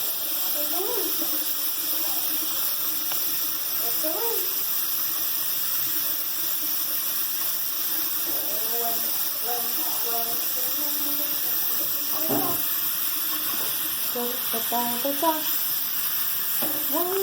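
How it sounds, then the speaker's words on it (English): Water runs from a tap in a steady, close hiss as hands are washed beneath it, while a voice talks intermittently over the flow. "Wash the backs of your hands."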